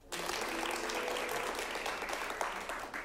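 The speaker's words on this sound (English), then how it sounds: "Give yourself a big round of applause for coming out tonight." Audience at a live improv comedy show breaking into a big round of applause, dense continuous clapping that starts abruptly and stays loud and full for the whole stretch.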